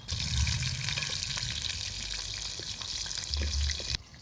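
Chicken pakora sizzles in a shallow layer of hot oil, a steady dense crackle with a few louder bursts as the pieces are turned, close and continuous with no talking.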